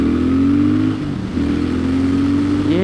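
A 2021 Triumph Thruxton RS motorcycle engine revs under load. It is loud and close, with a steady drone that dips briefly between gear changes and then climbs again at the end.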